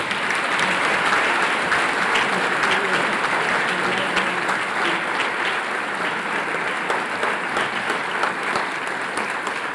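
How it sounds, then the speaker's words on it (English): An audience at a school academic awards ceremony gives sustained, even applause, a dense wash of many hands clapping that fills the room for the whole stretch. "Now, we would like to give them a round of applause,"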